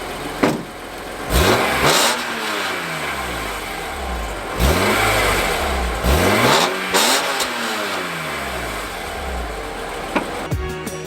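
A BMW E46 M3 with a standard exhaust, heard from behind the car. It revs repeatedly in sharp rising and falling sweeps, loud and close, and settles back toward idle between the blips.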